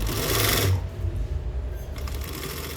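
Sewing machine stitching a cropped top with a full underwire, a loud continuous motor whir for the first moment, then quieter steady mechanical running with light rattling.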